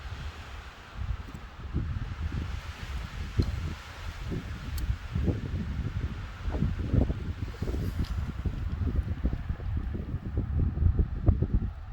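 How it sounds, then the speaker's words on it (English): Breezy wind sweeps across the Craters of the Moon lava field, a steady low rumble and buffeting against the microphone with gusts rising and falling throughout. "Still a bit breezy."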